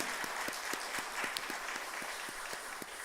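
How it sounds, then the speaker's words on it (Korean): A church congregation claps together during a Sunday worship service, producing faint, continuous applause with a regular pulse of claps running through it and no voices over it. "우리 이성전에 있는 분들도 다시 한번 하나님 앞에 영광의 박수를 올려드리겠습니다"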